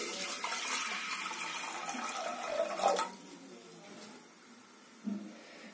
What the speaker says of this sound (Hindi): एबे किछि पानी दे देबा।